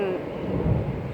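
Thunder rumbles low and deep during a rainstorm in Spain, a brief, steady roll over the hiss of rain.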